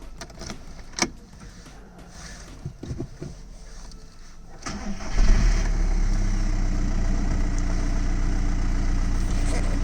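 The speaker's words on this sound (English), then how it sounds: "let's start up the Golf, and let me show you how it's doing now" A Volkswagen Golf is cranked and fires up about halfway through, after some clicks and rustling, then settles into a loud, steady idle that runs to the end.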